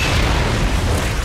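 Explosion in Far Cry 6, a short loud, dense roaring blast with deep low rumble that fills the brief moment.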